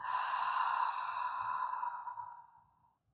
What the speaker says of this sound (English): take a nice deep cleansing breath. So inhale fully. Exhale completely.